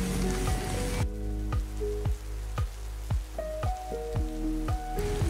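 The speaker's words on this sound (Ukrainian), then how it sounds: "Далі дощ посилився" Heavy rain falls outdoors in Italy, a dense hiss at first that thins into distinct splashing drops and sharp ticks hitting a nearby surface, loud and close with no voices.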